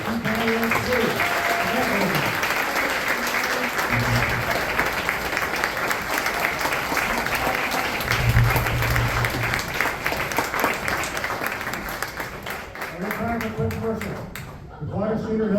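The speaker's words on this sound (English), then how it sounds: "We do have time for a big round of applause for two candidates too" A live audience claps for two candidates at a Victoria – Swan Lake election debate, with dense, steady applause filling the room for about fifteen seconds.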